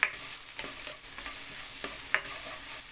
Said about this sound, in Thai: จะผัดไปอย่างเงี้ยค่ะจนหอมนะคะ